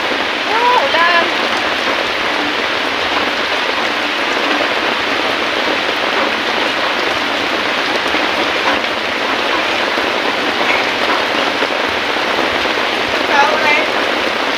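Steady, heavy rain pours onto a hut roof and the ground around it in a constant dense hiss, with faint voices now and then beneath it.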